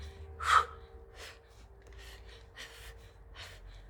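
Heavy panting during a HIIT workout: a sharp gasp is followed by a series of quick, breathy exhalations in an irregular rhythm, moderately close, with no speech.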